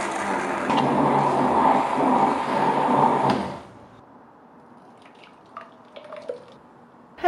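Blender grinding corn covered with cream, a loud steady whirring roar for several seconds that stops abruptly, leaving quiet with a few small knocks.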